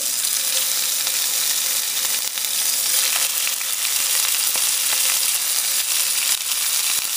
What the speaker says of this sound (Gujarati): અને અવિતામ અવાજ આવું ખપે તમે જ્યારે તેલમાં નાખો ત્યારે